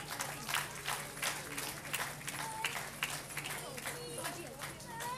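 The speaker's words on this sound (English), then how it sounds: "Big round of applause" Applause and cheering from an audience at a children's school annual day event with a fancy dress competition, a continuous crowded wash of clapping with a voice talking over it and a steady hum underneath.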